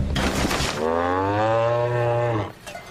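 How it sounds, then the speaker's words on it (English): A cow gives a long, loud, drawn-out moo lasting nearly two seconds, close and clear over a low rumbling background, with no talking. "Is that a cow?"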